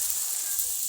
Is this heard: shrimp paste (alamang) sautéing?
yes